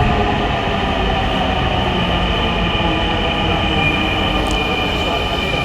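A metro train pulls into a station with a loud, continuous rumble and a thin wheel squeal riding on top, holding steady as it rolls in close by.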